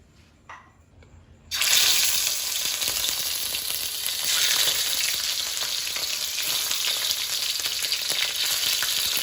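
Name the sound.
prawns shallow frying in oil in a wok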